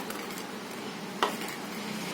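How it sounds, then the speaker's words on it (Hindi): Fried pakoras dropped into raw mango kadhi in a pot, a faint bubbling simmer broken by one sharp splashing clink at the drop. "तो ये डाल देते हैं हम पकोड़े कड़ी में।"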